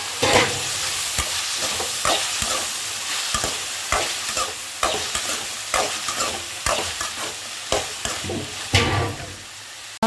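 Cinnamon, cardamom and spices sautéing in a hot pan for a country chicken curry, a steady sizzle broken by repeated scraping stirs, close and fairly loud.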